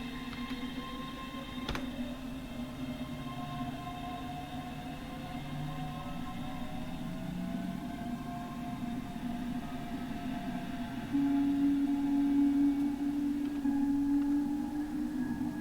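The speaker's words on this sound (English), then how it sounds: "I like those noises on departure" Train Sim World 3 rendition of a ScotRail express departing Falkirk High for Edinburgh Waverley, a steady rising traction-motor whine and rolling rumble in which a brief clunk sounds early, and a louder tone swells near the end, with no talk.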